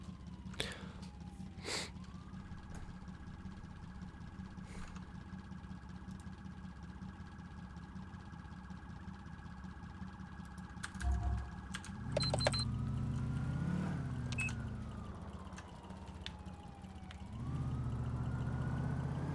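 Wailing ambulance siren in the GTA IV video game, glitching back and forth. A steady tone holds for about ten seconds, then shifts into louder sweeping wails with engine rumble underneath.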